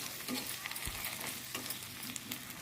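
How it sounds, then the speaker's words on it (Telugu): Cucumber seeds fry lightly in a pan, making a quiet, steady crackle with small pops and an occasional scrape of stirring, close up and with no voices. "ఇప్పుడు ఇవి దోస గింజలు ఉడుకుతున్నాయి కదండి"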